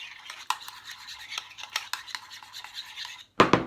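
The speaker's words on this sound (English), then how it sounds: "I add some of the soy protein powder, I mix it all together" Soy protein powder being mixed into almond milk, a steady scraping, rasping stir with repeated strokes and a louder clatter near the end, close and alone.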